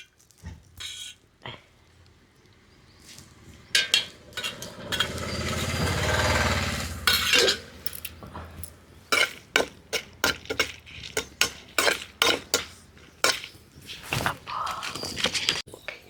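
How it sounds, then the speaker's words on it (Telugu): Ingredients for tamarind chutney fry lightly in oil in a pan, with a soft sizzle swelling in the middle while a utensil scrapes and taps in quick, uneven clicks throughout. "వీటిని మాడిపోయేలాగా కాకుండా చక్కగా లైట్గా వేయించుకోవాలండి"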